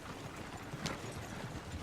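Horses clip-clop in Red Dead Redemption 2, a faint, continuous patter of hooves heard at a distance with no speech over it.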